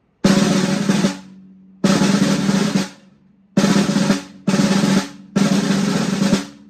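Five sustained buzzing press rolls, also called closed rolls, are played on a drum. Each dense, loud rumble lasts about a second and stops abruptly, leaving short gaps between them.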